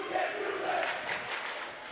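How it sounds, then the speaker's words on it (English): A high-school basketball crowd in a gym roars and cheers steadily after a defensive turnover, the sustained noise broad and fairly loud throughout with faint voices mixed in. "you hear the crowd appreciating that"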